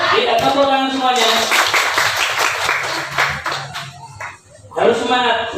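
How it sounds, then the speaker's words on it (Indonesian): Children in a classroom clapping their hands together, a loud burst of mixed applause under a teacher's voice and chatter, fading before talk resumes. "Kita tepuk tangan semuanya."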